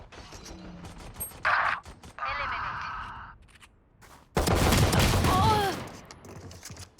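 Bursts of video game gunfire crack out in a fast online shooter match, with a couple of loud rapid volleys separated by quieter stretches of in-game sound.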